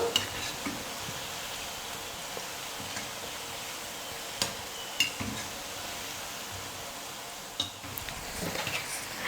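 Bonda snacks frying in hot oil over medium heat, a steady, even sizzle with occasional faint clicks and pops throughout, close and continuous with no talking.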